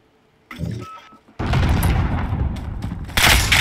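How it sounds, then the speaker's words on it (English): Gunfire coming from all directions in a free-for-all shooter game, with a short burst of shots followed by a sustained roar of overlapping fire and a loud, bright volley at the end. "They was shooting from every angle I turned around from."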